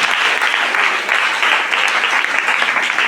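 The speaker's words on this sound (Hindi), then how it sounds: "ताली बजाओ इस बड़े खुशी के लिए" A church congregation applauds during a Sunday ministry service, producing dense, continuous clapping from many hands that holds steady and fairly loud for the whole stretch, with no voices over it.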